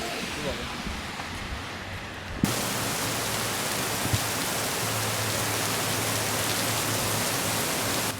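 Rain falling on a March day begins abruptly after a quieter opening, becoming a dense, steady hiss that holds at an even level to the end.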